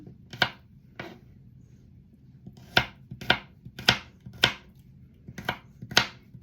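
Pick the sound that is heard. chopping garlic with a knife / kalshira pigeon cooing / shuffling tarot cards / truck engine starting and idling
chopping garlic with a knife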